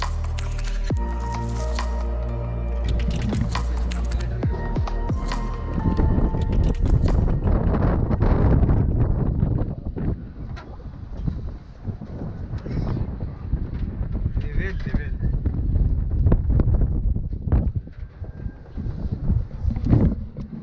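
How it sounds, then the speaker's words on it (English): Strong wind buffets the microphone in a steady, roaring rush, with heavy low rumbling gusts and no voices, in Prague, Czech Republic. "So now this is like super windy here"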